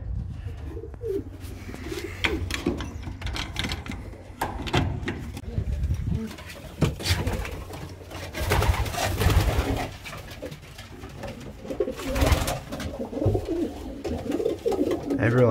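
Young pigeons coo repeatedly in a loft, low throaty calls overlapping in an uneven rhythm, close and fairly loud, with some rustling and faint speech in the background.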